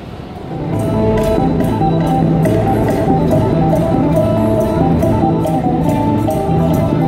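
An elevated train in Thailand rumbles loudly into an outdoor station, a steady roar of wheels and motors with rhythmic clatter close by.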